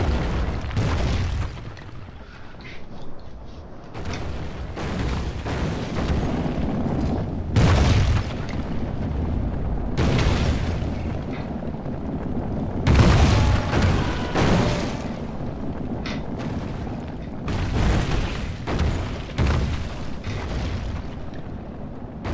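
Onager siege artillery in Rome Total War pounds city walls, with repeated heavy booms and crashing impacts at irregular intervals over a continuous battle din, with no talk.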